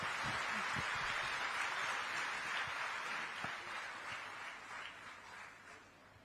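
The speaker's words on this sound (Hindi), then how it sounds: "आप सभी की बहुत पुरजोर तालियों के बीच माननीय" A gathering at an International Women's Day event in Chhattisgarh claps for Chief Minister Vishnu Deo Sai, a soft, distant wash of many hands with a few sharper nearby claps, gradually fading toward the end.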